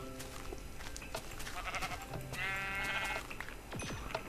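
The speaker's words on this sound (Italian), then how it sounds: "facetemi uccidere queste pecore" Sheep bleat among dense game sounds in Minecraft with the Technic modpack, a wavering bleat standing out midway over a busy, cluttered background of clicks and effects.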